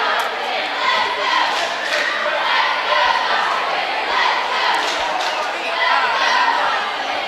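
A big crowd at a high school basketball game between the Dons and Cape Central cheers and chatters in a continuous loud wash of voices, with a commentator talking over it.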